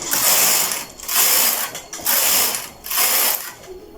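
A knitting machine carriage runs back and forth across the needle bed knitting sleeve rows, giving four loud, sustained ratcheting, clattering passes separated by brief pauses, with no talking.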